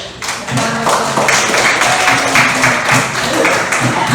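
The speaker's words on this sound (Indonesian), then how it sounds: "Mari kita tepuk tangan buat kita semua dulu" Loud applause from a classroom of students, steady rapid clapping with a few thumps mixed in, briefly joined by voices.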